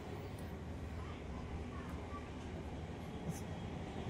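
Underground Mumbai Aqua Line 3 metro train running, a steady broadband rumble and rushing roar with faint higher squeaks, continuous and moderately quiet throughout.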